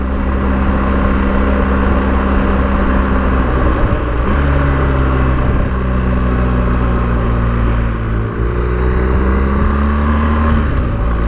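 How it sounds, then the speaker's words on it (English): 2017 BMW R1200GS motorcycle engine in dynamic mode downshifting on the quick shifter, a loud continuous drone with pitch steps dropping and shifting across gear changes, up close. "lovely and smooth coming down the box on the quick shifter"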